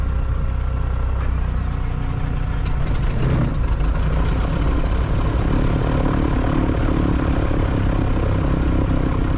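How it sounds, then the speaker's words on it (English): A twin-engine Piper Seminole airplane engine being started drones continuously with a low rumble and a brief sputtering burst partway through, steady and fairly close. "We're going to engage the starter."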